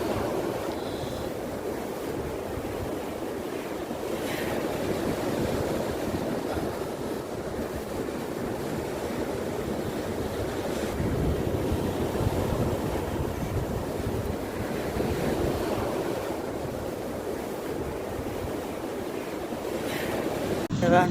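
Sea waves at Agiba beach near Marsa Matruh roll in a constant wash of surf, loud and close. Steady wind buffets the microphone throughout, with no clear break between swells.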